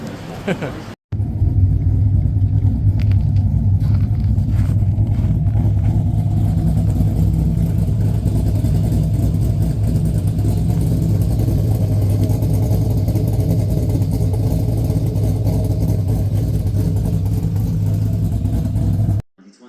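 A car engine idles with a steady, close rumble as it backs out of a garage, beginning after a short cut and stopping abruptly at the end.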